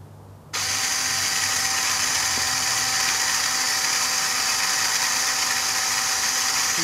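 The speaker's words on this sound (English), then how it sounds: "Can you see the drill?" A power drill starts abruptly and runs steadily at a constant high-pitched whine, loud and close, with no pauses.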